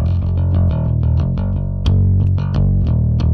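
A bass guitar plays a steady run of plucked notes through an Ampeg SVT amp with a thick, slightly gritty tone, loud and close, with no voices.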